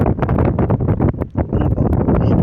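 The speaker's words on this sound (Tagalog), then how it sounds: "ang lakas ng hangin" Strong gusty wind buffets the microphone in loud, roaring bursts, with a short lull partway through.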